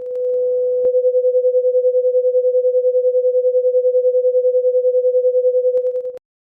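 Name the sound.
two close tones beating, fluttering sound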